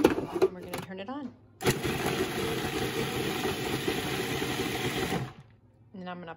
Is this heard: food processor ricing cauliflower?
yes